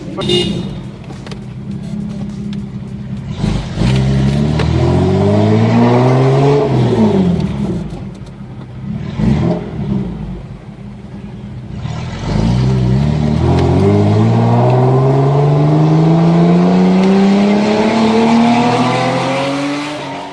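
A Toyota MR2 with a turbocharged V6 engine swap accelerates hard on a test drive, pitch climbing through several gear pulls with brief drops between, loud and close throughout.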